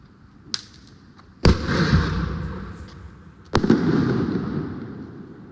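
Firecrackers go off in a street during a Chinese New Year celebration in China: a faint pop, then two sharp, loud bangs a couple of seconds apart, each trailing into a rumbling, crackling decay.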